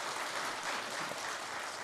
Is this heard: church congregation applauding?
yes